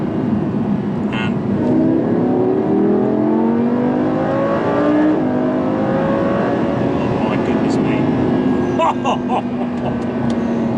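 A 2016 Audi R8 V10 Plus being driven in heavy rain and floods. Its engine rises in pitch and then swells in a loud revving climb with a roaring, rising whine, heard from inside the cabin under spoken commentary.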